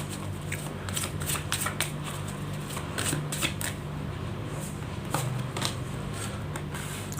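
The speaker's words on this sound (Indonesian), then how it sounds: "Langsung saja saya shuffle kartunya." Tarot cards are shuffled near at hand in quick riffling bursts, with soft repeated flutters and slaps that continue steadily throughout, and no talk over them.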